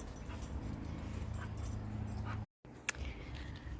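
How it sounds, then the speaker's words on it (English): A dog whimpers and yips softly during play outdoors in a garden, faint short whines over a low steady background hum, with a brief dropout and a sharp sound near the end. "Dog is playing. I guess it's a play break."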